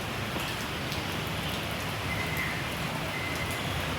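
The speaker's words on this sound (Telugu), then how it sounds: "వర్షం అయితే చూడండి ఫుల్గా పడుతుంది మేమున్న దగ్గర" Steady, dense rainfall pours down continuously, a broad hiss of heavy rain with no voices or other sounds breaking through.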